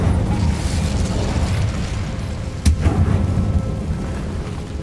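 A fire spell cast in the Hogwarts Legacy video game gives a sudden whooshing burst over a steady low rumble of game ambience, standing out briefly partway through.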